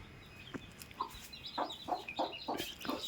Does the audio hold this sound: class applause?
no